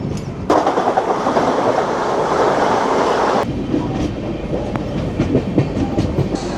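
A passenger train on the Mumbai to Mathura route running steadily, with loud continuous rumbling wheel and carriage noise heard from on board and a slight change in tone partway through.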